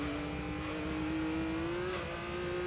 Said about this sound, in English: It sounds like my car is leaking air.